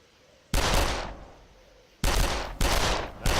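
Gunfire from the video game Darkest of Days: four loud, sharp shots with ringing tails, the first standing alone and three more following in closer succession.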